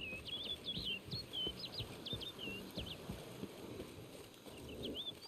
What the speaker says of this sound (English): Another bird.